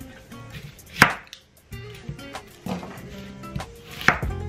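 A knife chops an onion on a cutting board for a ham hock soup, a few separate, sharp, close knocks with quiet handling in between.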